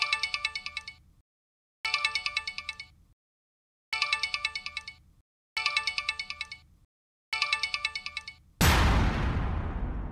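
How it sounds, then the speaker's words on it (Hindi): A telephone rings in five evenly spaced electronic bursts of trilling tones, each cut by silence, followed by a loud broadband crash at the end; no speech. "टेलीफोन बजने लगा।"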